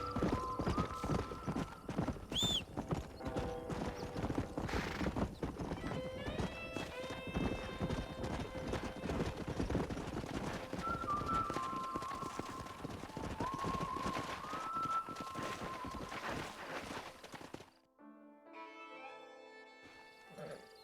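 Horses gallop in Red Dead Redemption, a busy stream of clip-clopping hooves with repeated whinnies over the top, close and loud before falling away at the end.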